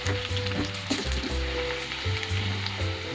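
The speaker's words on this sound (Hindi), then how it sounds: "प्याज को लाल होने तक फ्राई करेंगे हम" Onions sizzle steadily in hot oil with whole round red chillies and white cumin, a tempering for whole masoor dal; the frying crackle is close and continuous, with occasional stirring.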